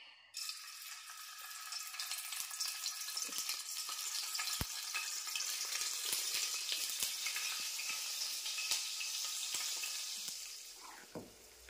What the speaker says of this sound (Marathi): ते आता मी इथे फ्राय करते